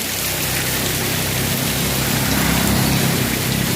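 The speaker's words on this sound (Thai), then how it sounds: "โอ้ยวันนี้ฝนตกหนักอีกแล้วไม่ได้วิ่งวันที่สองแล้วเนี่ย" Heavy rain pours down in a dense, continuous hiss, loud and steady with no breaks and no voices.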